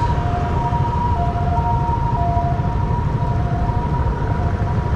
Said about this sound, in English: bunch of ambulances.